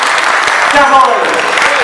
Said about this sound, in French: On peut nous applaudir.